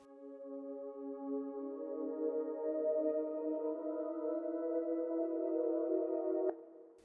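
Soft, chill synth chords from the Tone2 Electra synthesizer, for a beat, one long sustained chord swelling gently and fading with a small click near the end, quiet and alone.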